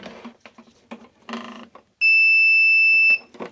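A continuity tester gives one sustained, steady electronic beep of about a second on a looped black and white wire. Quiet rustling and handling noises come before and after it.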